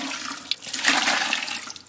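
Water pours into a big pot holding pork knuckles for braising, a short gushing splash that is close and continuous for about two seconds.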